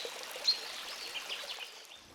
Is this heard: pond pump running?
yes